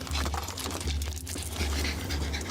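A small Shih Tzu trapped inside a hot parked car pants rapidly and steadily, a continuous breathy rasp under low ambient rumble, close and fairly faint.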